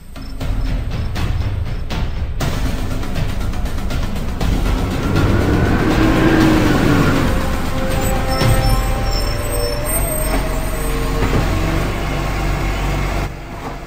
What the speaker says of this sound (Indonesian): Truk yang dinanti itu pun datang.